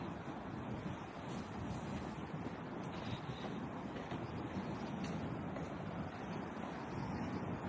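Sea waves on a white sand beach along a coastal road just after a storm, a low, continuous surf roar blended with wind buffeting the microphone, fairly faint and steady with no talking.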